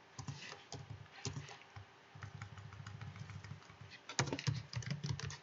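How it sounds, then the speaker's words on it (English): Keys clacking on a computer keyboard in bursts of quick typing, close and fairly quiet, with short pauses between runs and a faster, louder flurry near the end. "let's type this out more verbosely"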